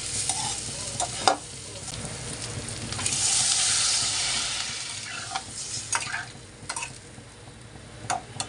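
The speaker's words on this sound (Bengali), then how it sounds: "জাস্ট এখানে ডিমগুলো দিয়ে মশলার সাথে খুব ভালো করে কষিয়ে নিব আমি" Eggs being sautéed with spices in a pan, a steady close sizzle with scattered clicks and scrapes of stirring, swelling into a louder hiss midway before settling back.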